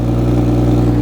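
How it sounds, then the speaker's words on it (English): A 2018 BMW X3 M40i with the B58 engine, rated at 360 horsepower, idles with a steady, deep, even hum and a constant low drone close up. "This is the idle sound."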